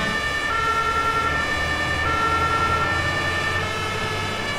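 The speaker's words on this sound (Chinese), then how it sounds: "咱们拉响警报" A toy fire truck's electronic siren wails steadily and loudly for the whole stretch, heard close up with a constant buzzing tone over faint rumbling motor-like noise.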